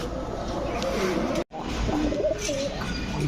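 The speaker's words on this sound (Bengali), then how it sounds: "রিয়াদ ভাই চলেন পরে কৌতরগুলো দেখেন" Several pigeons coo softly and repeatedly over a steady, noisy background, with a brief dropout near the middle.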